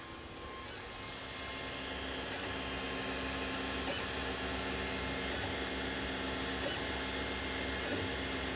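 A 3D printer runs with a steady mechanical hum and soft motor whirring, faint ticks recurring through a continuous, even drone.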